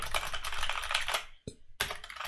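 Rapid typing on a computer keyboard while editing text in Vim, a close, dense stream of key clicks with a brief pause before the typing resumes.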